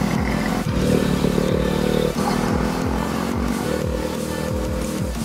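Air-cooled 500cc engine of a 1940s car, about 12 horsepower, labouring up a mountain hairpin on an Alpine road: a loud, steady low drone with rhythmic pulsing and a few dips where it strains, alone without voices.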